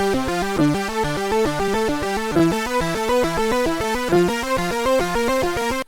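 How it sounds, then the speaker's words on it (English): Arpeggiated sampled notes played across multiple keys of an MPC keygroup, a steady rapid cascade of rising and falling tones ringing loud and continuous with no voice. "So now when we play this arpeggiated note across multiple keys,"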